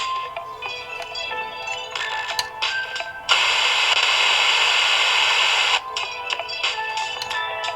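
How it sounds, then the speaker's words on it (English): A car radio plays music sent from a smartphone through an FM transmitter, tinny and thin, interrupted midway by a few seconds of loud hissing static before the music returns. "It's transmitting the music from the smartphone to the FM transmitter that gives the sound to the radio."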